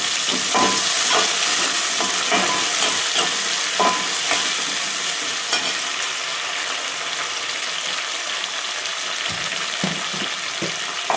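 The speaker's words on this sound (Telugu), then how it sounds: "కొత్తిమీర, పుదీనా, కలమాకు ఇవన్నీ వేసేసుకున్నాం. ఇది మంచిగా వేగనిద్దాం." Coriander, mint and curry leaves sizzle in hot oil in a pan with onion, a steady close crackle broken by intermittent stirring scrapes and clicks, with no talking.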